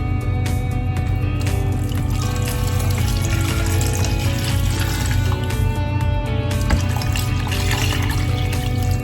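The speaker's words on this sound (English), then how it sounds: "the last thing I'm gonna add is 6 cups of water" Six cups of water pour steadily into a pot of Mexican meatball soup (caldo de albóndigas), a continuous close filling and trickling sound running the whole time without talk.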